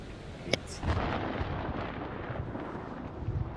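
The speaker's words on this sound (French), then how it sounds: "L'orage est à 8 bornes." Distant rolling thunder from a storm in the video game Man of Medan, a sharp crack followed by a broad, sustained low rumble lasting several seconds with no voices over it.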